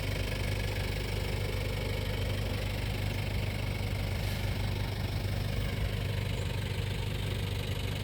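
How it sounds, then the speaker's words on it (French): Toyota Hilux Surf with a 1KZ-TE turbo diesel idling, a steady low knocking rumble that holds constant throughout with no talk. "le 1KZ TE. Ce moteur est une merveille de Toyota."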